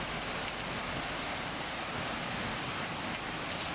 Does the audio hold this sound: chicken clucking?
no